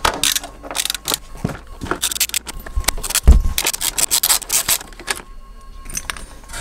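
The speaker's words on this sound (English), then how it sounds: "we're gonna loosen these bolts here" Metallic clinks, scrapes and ratcheting of a wrench working loose suspension bolts on a Tesla Model 3 with a homemade tool, irregular close-up clicks and rattles with one sharp knock midway.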